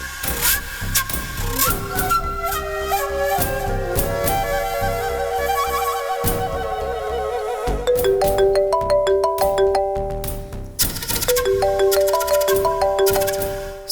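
A phone rings with a melodic ringtone of steady electronic tones that shift in pitch, loud and continuous with brief breaks, in a Tamil household drama setting with no talking.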